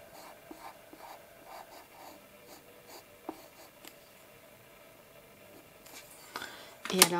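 Colour pencil colouring on paper while drawing a cute owl, a soft, faint scratchy rubbing that carries on steadily with small taps, then a louder scrape near the end.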